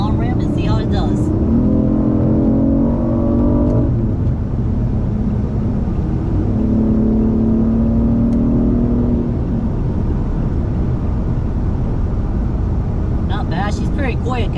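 A BMW i8 hybrid accelerating up an interstate on-ramp, heard from inside as a steady loud road and wind roar with rising engine tones sweeping upward twice, and brief voice fragments at the start and end.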